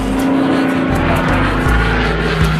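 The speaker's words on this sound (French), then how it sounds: "Nous sommes fiers, c'est notre première fois d'entrer dans l'avion." Inside an airplane cabin, a loud steady engine drone hums continuously with a low rumble and a sustained tonal whine, no voices over it.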